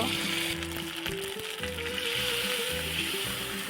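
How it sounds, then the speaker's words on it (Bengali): Cumin seeds tempering in hot oil in a pan give a continuous loud crackling sizzle, with a few sharp pops and faint clinks near the start. "তেল গরম হলে জিরা ফোড়ন দেব।"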